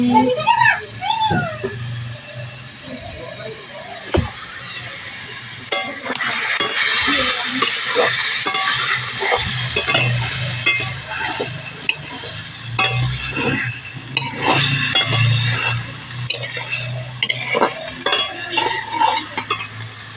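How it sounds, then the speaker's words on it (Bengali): Raw poultry meat frying in a pan, with repeated stirring scrapes and clatter over a steady sizzle throughout, close and fairly loud, and a voice talking at times above the cooking. "মাংসটা ওই যে একটু ভেজে নিচ্ছি"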